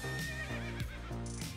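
A wild Australian brumby horse neighing, a loud, close whinny with a shaky, pulsing rhythm and several rising and falling bursts over about a second and a half, heard alone.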